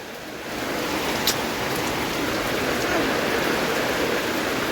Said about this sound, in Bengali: এত বৃষ্টি হবে যে ভাবতেও পারা যায়নি।